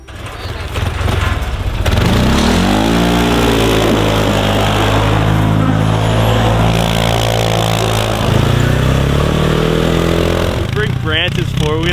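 An R6 sport motorcycle engine revs hard on ice, its pitch climbing and falling in repeated sweeps, loud and close throughout.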